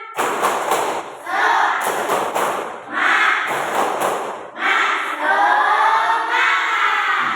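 An elementary school class doing a rhythmic spirit clap: bursts of quick group claps in patterned runs, mixed with loud chanting voices that carry on alongside the clapping.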